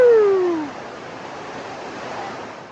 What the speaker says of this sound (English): we had a little rainstorm roll in